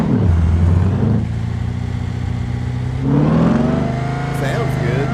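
A Roush car engine in BeamNG.drive revs hard, rising in pitch, easing off, then climbing again in a second loud surge, with a voice talking over the engine.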